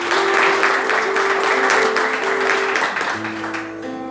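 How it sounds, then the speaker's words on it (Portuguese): Dense applause from a church congregation fills the space, steady and loud throughout, with sustained organ or keyboard chords held underneath and shifting toward the end. "Vamos aplaudir a palavra do Senhor"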